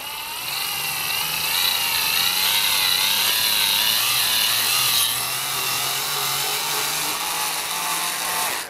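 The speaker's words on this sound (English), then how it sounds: "This is a little cheapy power drill. Not really a drill, more like an electric screwdriver." Cheap handheld electric screwdriver running continuously at a steady high-pitched whine, close and fairly loud, with slight pitch wobble as it turns while working on a guitar.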